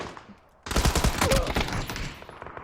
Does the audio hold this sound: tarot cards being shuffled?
no